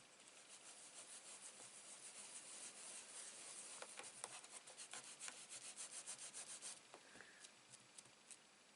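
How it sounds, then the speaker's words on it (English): Dry scraping of grime off a flower-pattern stamp, a steady raspy rub with quick repeated strokes that quickens into short bursts before trailing off; close and moderately loud, with no voices. "I want to scrape all that dirtiness off."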